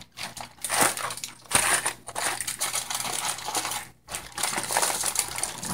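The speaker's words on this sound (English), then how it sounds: "Fold the ends in so that your foil rolls with you, and begin to roll the turkey like a jelly roll." Aluminium foil crinkles and crunches up close as raw turkey meat is rolled in it, in bursts of crackling with short pauses, no talk over it.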